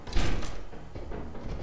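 A locked door in the Lethal Company video game gives a muffled thud and rattle near the start, followed by low rumbling game ambience with no talk.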